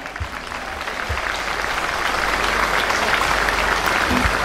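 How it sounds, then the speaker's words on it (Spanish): Audience at a live folk music show in Mburucuyá, Corrientes, applauding steadily; dense, continuous clapping builds slightly and holds loud throughout, with no talk over it. "Aplauso"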